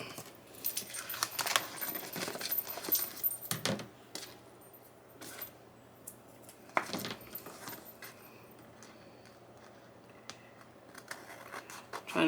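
Scissors cut through burgundy fabric ribbon trim in a quiet room, producing several crisp snips and rustles in irregular bursts, close and fairly soft with pauses between.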